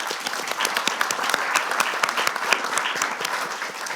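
Audience at a plenary session on democracy breaks into dense, continuous applause with many overlapping claps, fairly close and lively for about four seconds, without speech over it.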